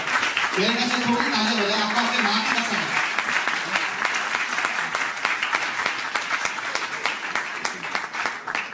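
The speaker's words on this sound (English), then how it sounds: "I want all of you all to give a big round of applause for these two individuals" Audience applause at a Mumbai festival announcement event, a dense sustained clapping that runs the whole time, with a voice speaking over it near the start before the clapping continues alone.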